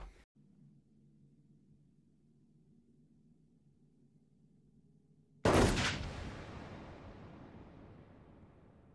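A single sharp gunshot from a scene in the 1996 film Romeo + Juliet, fired point-blank, cracks loudly out of a quiet low hum and leaves a long decaying echo.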